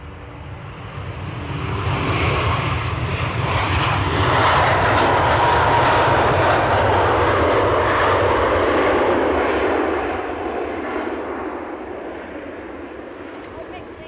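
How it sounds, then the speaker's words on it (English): A Lufthansa jet taxis after pushback at Edinburgh Airport, its engine noise swelling from a low rumble to a fuller, louder roar through the middle before easing back down toward the end. "Lufthansa have pushed and turned"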